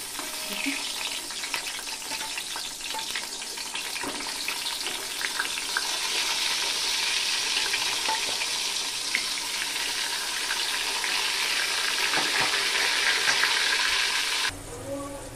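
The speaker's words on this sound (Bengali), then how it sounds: "মিডিয়াম আঁচে আমি চাল কুমড়োগুলোকে একটু ভেজে নেব।" Ash gourd pieces sizzle in hot mustard oil over medium heat, a loud, steady hiss of frying that runs the whole time and drops slightly near the end.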